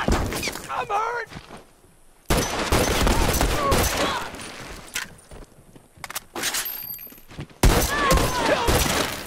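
Semi-automatic gunfire in The Last of Us multiplayer, fired from a water tower: sharp bursts of shots with impacts, mixed with shouting and voices throughout.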